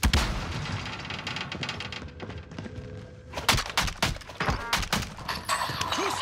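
Rapid bursts of automatic gunfire in the battle royale game Warzone, sharp cracks clustered after a rumbling, noisy stretch, loud and close, coming in several volleys with no talking.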